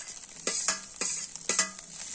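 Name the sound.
stirring potato into scrambled egg in a frying pan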